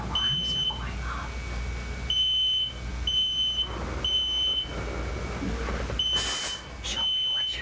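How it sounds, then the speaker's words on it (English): Smoke alarms beep in repeated bursts of a shrill, steady tone, sounding again and again with some muffled background noise between. "The alarms are going off."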